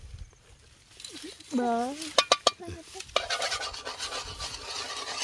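Beef frying in oil in a pan for a beef and water spinach stir-fry: a few clatters, then a steady sizzle starts partway through and carries on to the end, with a brief voice early on.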